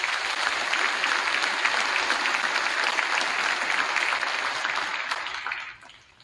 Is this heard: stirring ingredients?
no